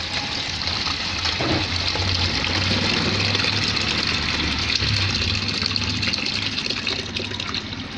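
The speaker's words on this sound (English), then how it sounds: "I will place this filter inside it and be filtering the water from the beans." Water drains through a filter from a bowl of washed beans into another bowl, a steady rushing, splashing pour that continues without a break.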